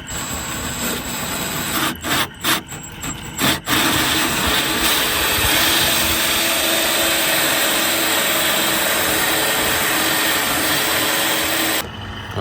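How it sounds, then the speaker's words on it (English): A hole saw drills a hole for a sink faucet in a DIY van build, making a steady, loud, continuous grinding whine that runs for about ten seconds after a few brief stop-start bursts, close up with no talking. "Alright, so we got a hole saw."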